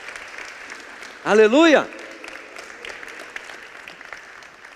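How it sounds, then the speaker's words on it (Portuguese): A church congregation claps for Jesus, a soft continuous patter of hands under a single loud shouted exclamation from a voice near the start. "Dá uma salva de palmas para Jesus"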